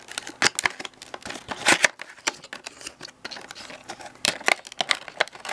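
Cardboard parcel box from AliExpress being opened by hand, with a run of crisp tearing, rustling and snapping bursts at close range, quiet gaps between them and no talking.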